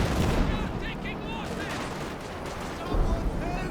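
A Soviet sector artillery barrage in a Company of Heroes 2 2v2 match rolls on as continuous dense explosions and rumbling booms, with someone commentating over the bombardment throughout.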